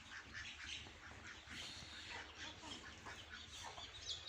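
Ducks sitting in the sun at a farmhouse with hens and chicks, giving faint, scattered quacks and squawks over quiet outdoor background noise.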